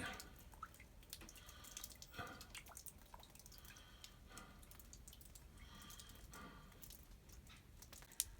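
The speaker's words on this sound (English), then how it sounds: "still getting a drip on this end of the roof" Meltwater drips from ice on a roof on a sunny, below-freezing day, falling as faint, irregular drops against a soft steady background hiss.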